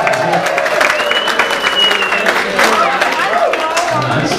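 A corporate comedy show audience of married couples claps and cheers, a dense crowd roar of applause with whoops rising over it, loud and sustained, while a voice carries on under the noise.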